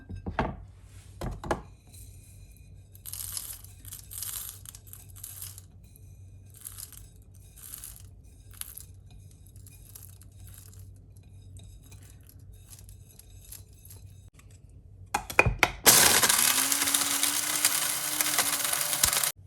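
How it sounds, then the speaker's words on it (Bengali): Whole spices for kacchi biryani are handled with a few sharp clinks and rustles, then a blender starts abruptly and grinds loudly and continuously at the end. "এখন আমি এটা ব্লেন্ড করে নিব"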